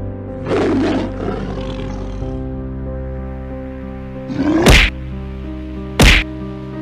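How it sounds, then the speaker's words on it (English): Tiger loose from its cage at a zoo, a loud rumbling roar followed by two sharp thwacking hits, close and dominant over a humming background. "But the tiger has escaped its cage!"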